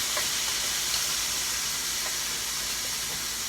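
Ingredients stirred while they fry in a paella pan for a vegan Valencia-style paella, a steady broad sizzle and hiss with faint scraping touches, close and constant throughout.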